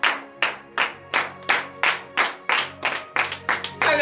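A congregation claps in steady, loud unison during a worship service, about ten sharp rhythmic claps with faint voices in the background.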